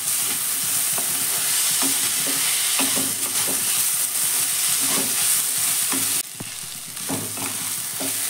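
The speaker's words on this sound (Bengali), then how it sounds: "এবার ভালো করে আবারও একবার নাড়াচাড়া করে দেবো" Winter vegetables fry in a pan while a spatula stirs them in rhythmic scraping strokes over a continuous loud sizzle, which drops slightly in level near the end; close up, no talk.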